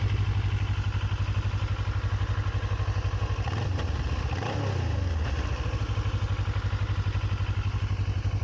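A Kawasaki ER6N motorcycle engine running just after starting, a loud steady close-up idle with a rapid even throb, rising briefly in a short blip of revs midway before settling back; no talking.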